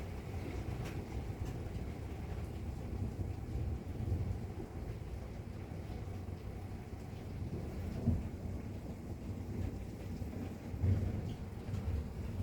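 A violent thunderstorm in Indianapolis with steady heavy rain, hail and wind roaring as a dense, continuous wash, with a couple of low thunder rumbles rising out of it.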